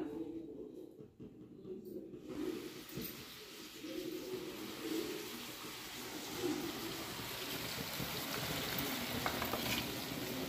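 Bread pieces fry in hot oil, giving a steady close sizzle with crackles that builds after a quiet first two seconds and carries on alone to the end.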